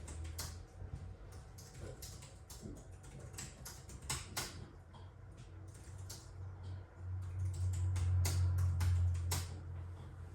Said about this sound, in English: I'll just type a few lines here so you can hear it